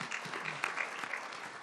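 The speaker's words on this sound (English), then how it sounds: "Could you give a round of applause to these three?" A room of attendees at a public event on a credit union collapse applauds a three-person panel, soft, fairly distant clapping from many hands, steady and brief.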